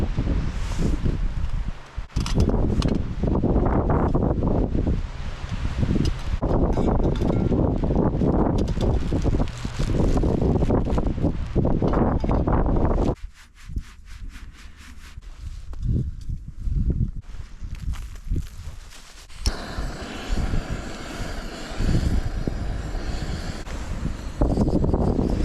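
Strong wind roars loudly and steadily across freezing winter mountains, buffeting the microphone with dense gusts, dipping briefly to a quieter hollow rush midway before surging back.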